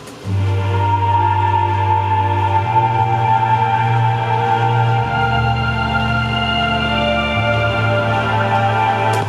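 A deep synth bass holds long, sustained low root notes that shift pitch a few times, layered under a steady, full electronic chord pad with no voices, in a chill trap beat.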